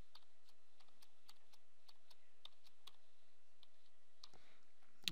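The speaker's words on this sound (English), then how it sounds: "So again, we're going to type that in." Quiet, close keystrokes as a password is typed on a computer keyboard: a series of light, irregularly spaced clicks over a low background hum, ending with a sharper final key press and no talking.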